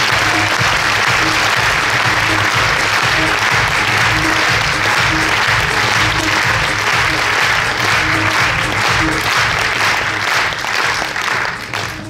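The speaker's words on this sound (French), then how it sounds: "Merci de faire un tonnerre d'applaudissements pour Monsieur Christophe Feuteau" Loud, sustained audience applause for an introduced guest at a formal event, dense clapping that carries on steadily for several seconds before tapering off at the end.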